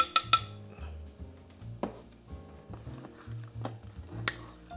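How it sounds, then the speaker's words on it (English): Chicken wings being tossed with garlic parmesan butter in a bowl, a run of soft wet thuds and light clinks of utensil on dish, close and fairly quiet, with no talking. "And just mix those wings up."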